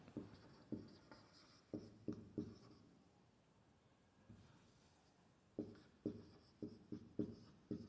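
Chalk or marker writing on a board during a maths lesson, a series of short tapping and scratching strokes in two bursts with a pause between, close and fairly faint.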